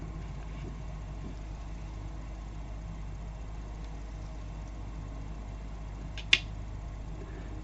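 A Murasame Type 98 gunto blade slides in its wood-lined scabbard, giving one quiet, brief sliding click near the end of a long stretch of low background hum.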